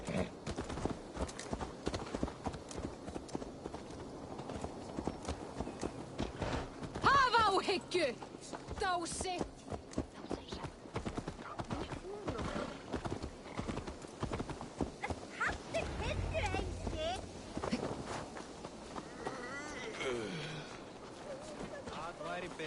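Horse hooves clip-clop in Assassin's Creed Valhalla, a steady ridden gait running under game music and a speaking voice throughout.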